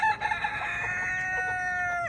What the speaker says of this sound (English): this guy started to crow